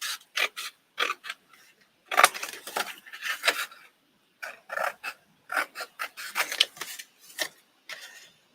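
Scissors cut through paper for a craft journal, giving a close run of crisp, rhythmic snipping strokes in short bursts with brief pauses between groups, no speech.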